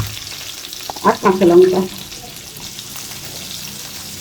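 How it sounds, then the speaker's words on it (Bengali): Whole cumin and garam masala frying in hot oil, cooked for a vegetarian paneer butter masala: a steady soft sizzle runs throughout, with a brief spoken phrase over it in the middle. "এই তেলের ওপর জিরে আর গরম মশলাটা দিয়ে দেবো।"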